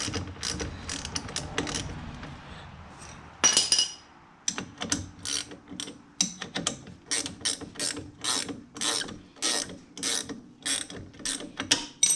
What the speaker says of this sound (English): You're going to need a 15 deep well for this top one. 15 millimeter to get this caliper bracket loose.